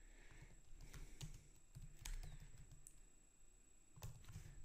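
Someone types on a computer keyboard nearby, a quiet run of irregular key clicks and taps in short bursts over a low background hum, with no talking.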